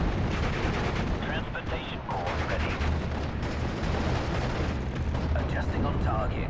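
Mortar and artillery fire in the Steel Division: Normandy 44 Pegasus Bridge battle, with dense rumbling blasts and crackling gunfire continuing throughout, loud and layered, and a voice talking over part of it.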